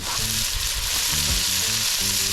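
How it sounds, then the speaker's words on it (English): Thyme, celery, onion, garlic, tomato and Scotch bonnet pepper sauté in a hot pan for a Jamaican okra dish, a steady close sizzle with occasional stirring scrapes throughout, no voices. "So we are going to saute up the seasons, thyme, celery and onion, garlic, tomato,"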